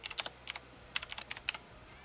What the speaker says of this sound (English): Sorry about that. Typing.